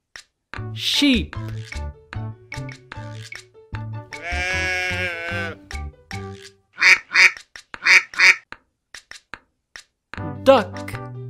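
A duck quacks in a quick series of short, clipped calls, up close, over the light backing music of a farm-animal song, with a longer wavering cry coming earlier.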